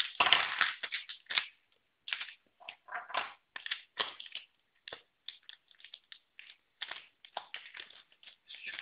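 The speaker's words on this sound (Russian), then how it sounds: "Широкие пакеты защелкивать. Или совсем маленькие." A set of plastic bag clips snaps shut on kitchen bags again and again in a quick, uneven run of sharp clicks and crunches, close and clear, with no speech.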